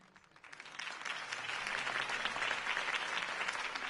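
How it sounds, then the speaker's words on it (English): A crowd breaks into applause after a campaign speech in the Batman Telltale Series video game, clapping swelling quickly from quiet and holding at a dense, steady roar. "If only Mr. Wayne, my campaign's largest backer, could have heard that applause"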